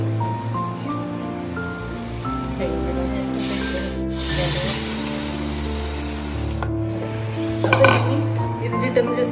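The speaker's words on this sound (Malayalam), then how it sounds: "ഇനി നമുക്ക് അതിനകത്തോട്ട് നമ്മുടെ കഴുകി വെച്ചിരിക്കുന്ന അരി ഇട്ട് കൊടുക്കണം." Washed rice pours into a pot of sautéed beef masala for biryani, giving a rattling, rain-like rush in a couple of bursts over a steady frying sizzle, with background music playing.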